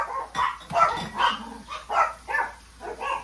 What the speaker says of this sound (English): Sorry, my dogs are going nuts.